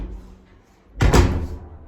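Recently adjusted sauna doors swing shut with a single solid wooden thump about halfway through, preceded by quiet room noise and followed by a short fading rattle.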